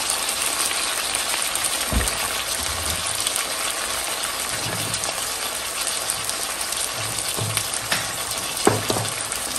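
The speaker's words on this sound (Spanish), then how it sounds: "Aquí lo voy a dejar un momento nada más para que empiece a sellarse toda esta carne" Chunks of meat seasoned with chicken bouillon, salt and ground pepper sear in a hot frying pan, giving a steady, close, even sizzle throughout with a few soft stirring knocks and scrapes.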